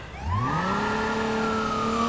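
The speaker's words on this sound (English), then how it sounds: "Let me turn the siren on" Police car siren in the video game Watch Dogs 2, a loud wailing tone that rises sharply and then holds steady, sounding alone and close with a faint engine rumble beneath.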